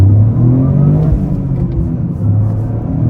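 A 2024 Toyota GR Corolla pulls hard in first gear under heavy throttle, its engine a loud, steady, close-up drone with low rumble sustained throughout, no talking over it.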